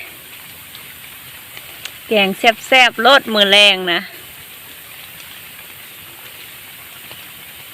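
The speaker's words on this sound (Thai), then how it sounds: "ฝนตกซื่อเนาะ" Steady rain hisses softly over a field during mushroom foraging, a constant wash in the background while a person speaks briefly in the middle.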